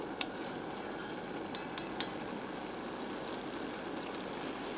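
Browned meat being lifted out of hot frying oil while cooking rogan josh, with a steady close sizzle and bubbling throughout and a few faint clinks of a utensil against the pan.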